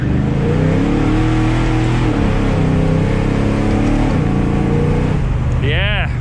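A big-block 1971 Chevelle, revived after sitting about twenty years, pulls hard under acceleration, its deep engine roar loud and steady, rising as it revs, with a brief rising whine near the end.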